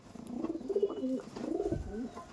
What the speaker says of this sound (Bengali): গিরিবাজ একটি কালদম পেয়ার দেখতে পাচ্ছেন